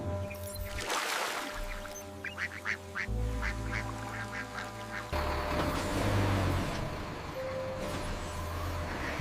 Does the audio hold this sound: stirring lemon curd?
no